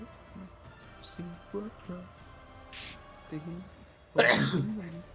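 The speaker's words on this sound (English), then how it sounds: "whoever was sneezing" A loud, abrupt sneeze bursts out near the end, while people talk over a tabletop role-playing game session.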